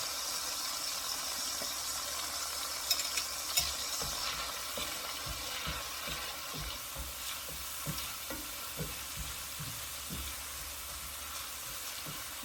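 Garlic sautéing in a pan for beef shank mechado, a steady soft sizzle with occasional stirring clinks and scrapes, fairly quiet and close, no talking.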